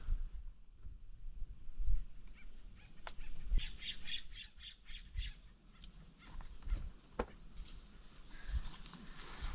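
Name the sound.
baby birds squawking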